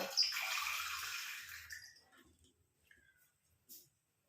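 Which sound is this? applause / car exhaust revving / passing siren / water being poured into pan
water being poured into pan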